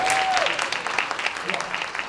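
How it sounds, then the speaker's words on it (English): A room of teachers at a professional development session bursts into applause, a dense crackling clapping under a brief whistle-like tone at the start, steady and fairly close throughout. "Give them a round of applause."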